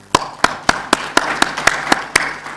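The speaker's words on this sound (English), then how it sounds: "let's give the final round of applause to our two presenters" Applause for two presenters closing a session at an economic policy seminar: about ten crisp, evenly spaced claps in a steady rhythm, close and fairly loud, with no talking.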